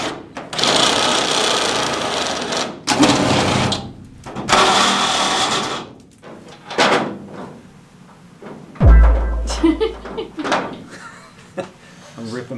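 A power tool rips bolts out of a school bus during a conversion build, with loud bursts of grinding and whirring metal separated by pauses, plus a clanking impact and people talking in between.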